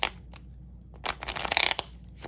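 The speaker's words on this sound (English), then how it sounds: "the card stopped me from shuffling" Tarot cards being shuffled by hand, with soft riffling and flicking that picks up into a denser, louder run of snapping card sounds near the end, close and without speech.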